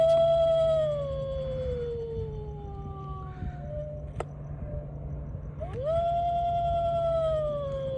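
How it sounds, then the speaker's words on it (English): Howling wolf sound effect from a Haunted Mansion-style Halloween decoration: two long, loud, sliding howls, the first fading downward and the second rising sharply, over a steady low electronic hum, with no one talking. "This is like the howling wolf you'll see at the Haunted Mansion."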